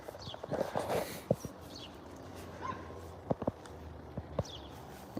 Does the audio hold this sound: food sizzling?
no